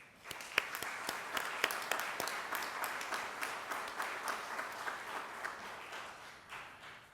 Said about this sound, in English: Please join me in a round of applause for all these wonderful volunteers.